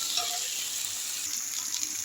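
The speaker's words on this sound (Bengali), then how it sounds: "এরপরে আমি এগুলোকে নেড়ে চেড়ে কষাবো।" Spice paste with potato and fried jackfruit being stir-fried in a pan for a vegetarian curry, a steady bright sizzle with light scraping as the mixture is stirred.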